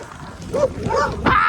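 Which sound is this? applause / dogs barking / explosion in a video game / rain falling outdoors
dogs barking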